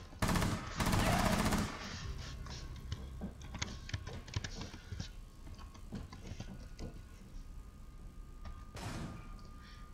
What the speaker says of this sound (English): I'm trying to be quiet as possible when I'm typing.